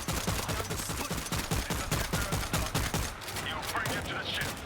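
Sustained rapid gunfire shooting at zombies in the Tokyo level of the World War Z game, loud steady automatic bursts with a brief lull before firing resumes, faint voices blended in.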